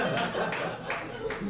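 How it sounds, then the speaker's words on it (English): Scattered clapping from a comedy club audience, a few hands applauding in a light, uneven rhythm under general room murmur. "whoever's clapping is a woman right now"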